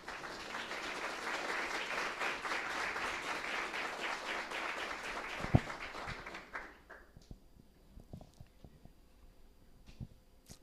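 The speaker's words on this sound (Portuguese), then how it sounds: "Eu queria que você aplaudisse essa palavra." Audience applause at a church seminar, sustained loud clapping from a crowd that fades out after about seven seconds, leaving scattered faint claps and room noise.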